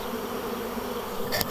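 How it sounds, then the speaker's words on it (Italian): A dense cloud of honeybees swarming around a hive after smoke has moved them off it, giving a steady, close insect drone with no pauses. "Tutta questa nuvola di api che c'è qua intorno prima era qua sopra"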